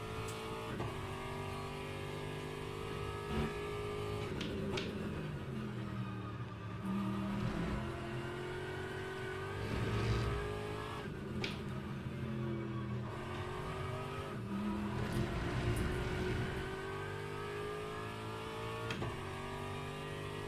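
An Aston Martin GT3 race car in Le Mans Ultimate, heard from the cockpit, revs hard through repeated upshifts and downshifts for twenty seconds. The loud engine note rises and falls, with brief tire squeal under braking.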